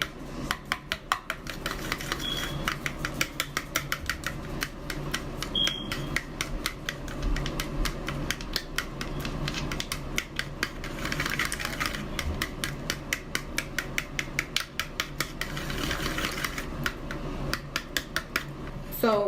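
A natural glow face mask mixture stirred in a bowl, with rapid rhythmic scraping and tapping strokes continuing steadily throughout, close and moderately loud.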